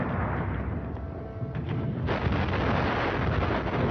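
Artillery shelling of Fort Eben Emael near Liège, a continuous heavy rumble of distant blasts and booms, loud and dense throughout with a sharper swell midway.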